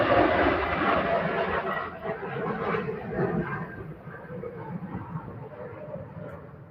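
A Saudi airliner departs Manchester Airport bound for Jeddah, its engines producing a loud, broad roar that slowly fades over several seconds as the jet climbs away.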